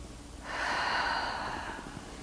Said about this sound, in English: Again, deep breath